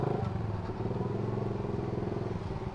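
Motorcycle engine running steadily throughout as the bike is ridden, a continuous close, loud rumble with slight rhythmic pulsing and no speech.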